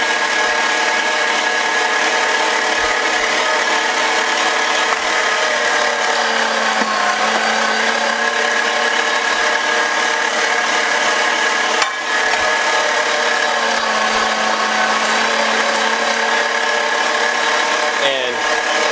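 A Sunmile SM-G50 electric meat grinder grinds whole frozen quail for tegu food, a loud, steady motor whine with a constant grinding drone and occasional brief clunks as the prey is pushed through.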